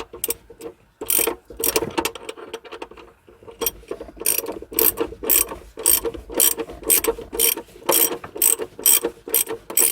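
Close, loud ratchet clicking as a wrench loosens the battery terminal bolt on a Renault Trafic van, in short rapid bursts repeated steadily with brief pauses between strokes.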